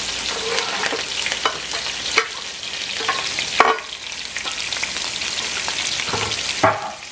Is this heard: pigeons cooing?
no